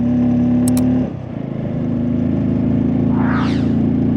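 A Bajaj Pulsar N250 motorcycle engine drones steadily while climbing a steep uphill road, loud and close, dipping briefly before the revs pick back up.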